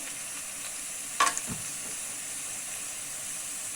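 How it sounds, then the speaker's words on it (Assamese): Onions, garam masala and bay leaves frying in a pan for pigeon meat curry, with a quiet, even hiss throughout and one brief clink around the middle. "ধুনীয়াকৈ গৰম মছলা, পিঁয়াজ, মাহপাত ভাজা হৈ গৈছে"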